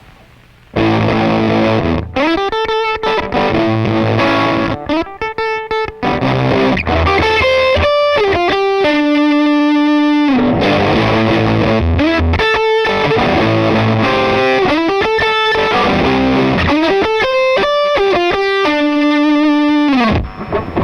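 A distorted electric guitar through a fuzz pedal plays an intro lead with a fuzzy, sputtering, gated tone. The notes are loud and choppy, with brief gaps between phrases.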